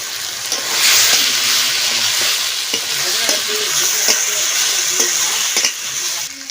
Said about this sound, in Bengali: এই কষানো ঝালের মধ্যে আমি এখন আলুটা ছেড়ে দেব।